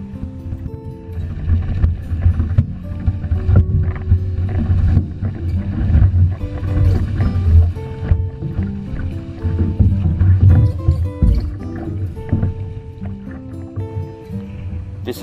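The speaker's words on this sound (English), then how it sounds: "we're paddling hard, getting in position, take that last stroke, tails up, and we're on" Outrigger canoe paddled hard onto a surf wave in Hawaii, with steady rushing water and wind noise throughout, dense churning rumble and splashes rising and falling as the hull catches the wave.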